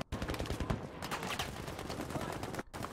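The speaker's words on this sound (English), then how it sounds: "Who the hell is shooting at me?" Dense, continuous gunfire from a Battlefield V multiplayer match, a steady burst of rapid shots that runs almost unbroken for three seconds with one brief gap near the end, loud and close.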